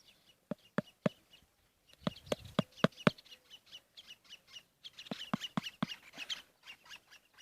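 A bird gives sharp, repeated clucking calls in quick bursts, close by, with quieter chirps between the louder notes.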